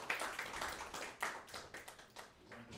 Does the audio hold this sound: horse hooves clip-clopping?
no